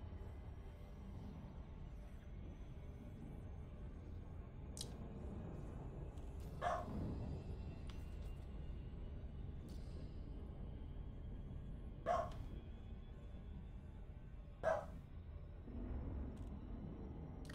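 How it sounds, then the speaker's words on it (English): A dog barks a few separate times, faint and somewhat distant, the short yaps spaced several seconds apart over a steady low hum of background noise. "Ah, the dog."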